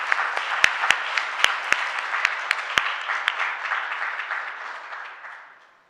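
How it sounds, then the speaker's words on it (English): Audience applause for a panel at the close of a Joint Reentry Council meeting: dense, steady clapping from a sizable crowd with a few sharp individual claps standing out, holding for several seconds before fading away at the end. "Can we give our panelists a round of applause?"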